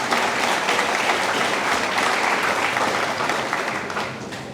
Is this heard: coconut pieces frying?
no